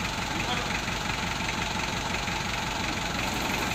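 A 1993 Isuzu Panther diesel engine runs at a steady idle, a dense, continuous rumble heard up close with no change in pace, while people talk nearby.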